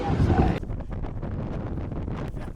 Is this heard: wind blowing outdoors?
yes